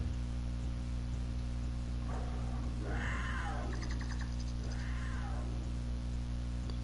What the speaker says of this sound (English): I do remember all the dinosaurs sounding like cats.